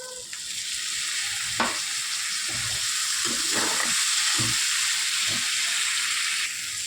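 Cut potatoes sautéing with garam masala paste in a pan for a katla fish curry, a loud continuous hiss of frying with intermittent spoon scrapes and stirring strokes, no talking.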